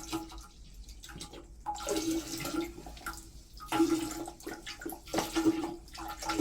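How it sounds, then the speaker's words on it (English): Dark Kool-Aid poured into a household toilet tank, a splashing, gurgling stream into standing water that swells and fades in bursts, fairly close, with no talking. "in the tank I'm going to pour this Kool-Aid, dark color"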